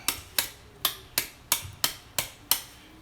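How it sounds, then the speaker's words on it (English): A large ice cube is broken up for a cocktail glass with eight sharp, evenly spaced cracking knocks in a steady rhythm, close and crisp, with no talking. "This is too big for this glass, so we're gonna try to break it up."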